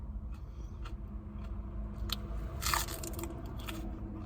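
Someone munches crunchy food close to the microphone in an eating session, with sharp bites and crackling crunches repeating irregularly, swelling loudest midway, over a quiet steady hum.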